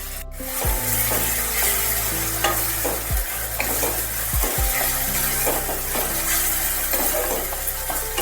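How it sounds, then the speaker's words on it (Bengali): Half-fried onions sizzle in salt-and-turmeric-coated oil for a Bengali fish-oil chorchori, with repeated scraping stir strokes from a spatula over a constant frying hiss, close and moderately loud. "পেঁয়াজগুলো অর্ধেক মতন ভাজা হয়ে গেলে তেলটা যেটা নুন হলুদ মাখানো ছিল সেটা আমি পুরোটাই এর মধ্যে দিয়ে দিলাম"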